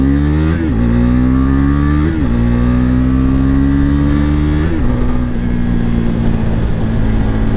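KTM RC390 motorcycle accelerating hard uphill, single-cylinder engine loud and close, revs climbing through quick gear shifts before settling into a steady high drone.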